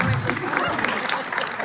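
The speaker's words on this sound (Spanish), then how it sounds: "un aplauso para mi esposa, por favor" An audience at a church prophet-training gathering claps for a man's wife, a dense patter of applause mixed with voices.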